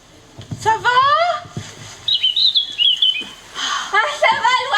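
A cartoon bird chirps in bright, rising tweets and warbling trills in several bursts, loud and near, mixed with animated voices speaking around it.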